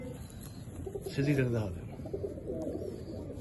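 A pigeon coos in a breeding loft where a hen sits on her eggs, giving one short, moderately loud throaty coo near the middle, with someone talking nearby and steady loft background noise.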